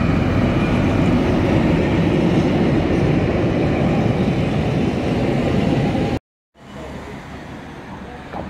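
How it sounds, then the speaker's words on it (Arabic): A train rolls past beside a hotel in the Austrian alpine village of Zell am Ziller, a loud steady rumble lasting several seconds before cutting off, then quieter rolling noise continuing. "بيمر القطار"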